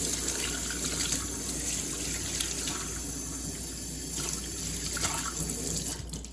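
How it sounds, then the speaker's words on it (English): Leeks rinsed under a running tap, a steady close rush of water hitting the sink with faint splashing shifts as the stalks are turned, continuous throughout. "So then I just kind of gently rinse the dirt off"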